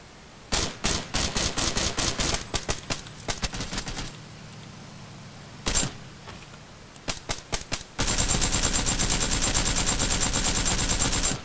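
Gunfire from a video game: rapid bursts of shots in uneven volleys with brief pauses, then a sustained dense stream of automatic fire, loud and close, with no talking.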